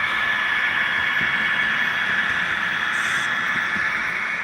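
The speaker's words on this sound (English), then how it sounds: "This is a ethanol train" Ethanol tank train rolling past on a Union Pacific Evanston Subdivision model railroad layout, a steady, even rumble and hiss that holds at constant loudness for several seconds with no talking.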